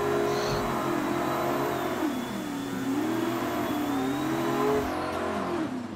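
A pro drift car's engine in a video game launches and revs hard, a steady loud roar with wavering pitch as it climbs and settles, close and continuous throughout.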